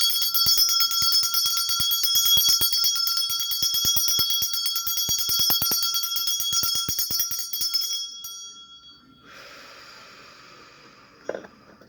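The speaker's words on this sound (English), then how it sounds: "Let's get some bells going here." Bright bells ring rapidly and continuously for several seconds, then fade into a softer shimmering tone with a brief clink near the end.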